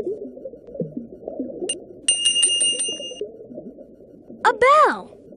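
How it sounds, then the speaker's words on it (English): Several quick bell dings ring out in the PC game I Spy: Fantasy, a bright tinkling flurry over soft background music, followed by a short swooping chime near the end. "A bell."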